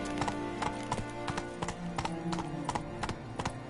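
Roach the horse gallops in The Witcher 3, with a fast, steady clip-clop of hooves close by and music playing underneath.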